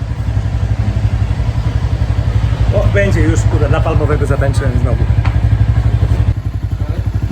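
A motorcycle engine idles nearby with a steady rapid putter throughout, while someone talks over it for a few seconds.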